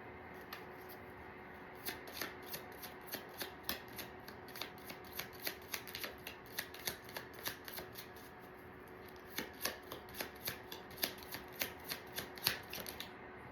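Tarot cards being shuffled and tossed, a steady run of quiet, crisp card flicks and snaps repeating in quick rhythm over a soft background hiss.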